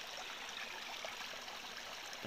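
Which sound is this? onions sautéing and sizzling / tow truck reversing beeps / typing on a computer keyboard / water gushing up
water gushing up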